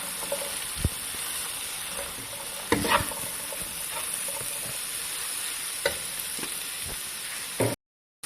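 Carrot, capsicum and cabbage stir-fry in a hot pan with a continuous sizzle, broken by several sharp scrapes and clanks of a spatula tossing the vegetables.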